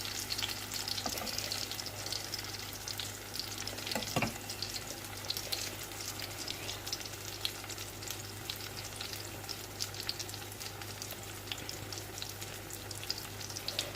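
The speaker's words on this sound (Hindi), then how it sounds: "ये देखिए हमारे हल्के हल्के से ब्राउन हो रहे हैं चपली कबाब।" Chapli kababs fry in a pan, giving a constant bright sizzle that stays steady throughout, with a couple of sharp clinks of a utensil against the pan early on.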